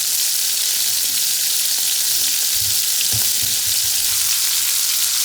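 Scallops searing in canola oil in a hot pan over medium-high heat, a loud, steady, close hiss of frying with faint low thumps, no voices.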